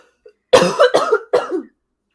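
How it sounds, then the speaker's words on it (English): Three harsh, close coughs in quick succession from a person with an itchy, dry throat, loud and alone after a short pause. "I have an itchy throat. I'm going to cough."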